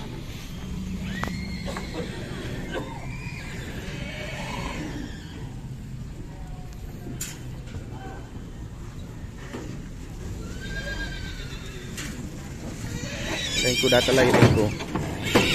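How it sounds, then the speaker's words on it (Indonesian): Horses being unloaded at a horse market whinny repeatedly, near and fairly loud, with hoof clip-clop and people talking over the busy yard noise. "Ini ada ingkup kuda-kudanya yang baru mau dibongkar."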